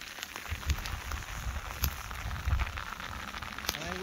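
Hailstones fall steadily during a wild camping trip in Scotland, pattering densely on nearby surfaces in a constant close hiss with heavier scattered hits, under quiet voices.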